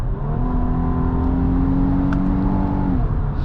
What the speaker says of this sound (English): Downshifts are quick.